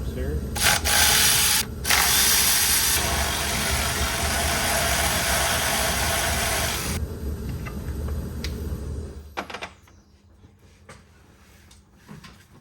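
A power tool whirs loudly and steadily on the 10 mm bolts of a Ford 6.0 Powerstroke FICM, stopping and starting a few times before cutting off into quieter handling noises and faint talk.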